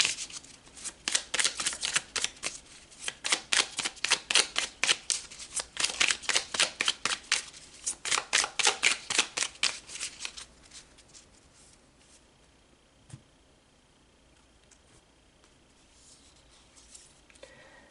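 Tarot cards being shuffled by hand, a rapid run of crisp riffling flicks for about ten seconds, close and clear, then tapering into quiet handling with a single soft tap.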